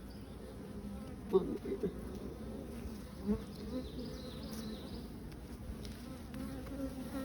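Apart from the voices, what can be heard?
honeybees buzzing around an open beehive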